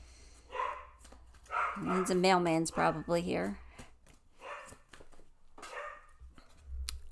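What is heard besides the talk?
puppies barking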